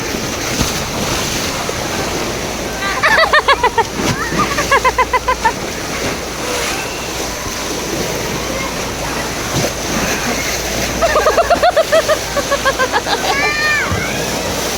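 Surf washes and splashes steadily across the whole stretch, with wind buffeting the microphone and people talking over it in bursts.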